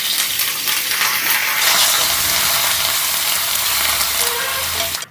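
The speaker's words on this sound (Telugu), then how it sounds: "మన పోపు అయితే చక్కగా వేగిందండి." Curry leaves and asafoetida crackle and sizzle steadily in hot oil for a tomato dal tempering, a dense close frying hiss that runs unbroken before stopping abruptly at the end.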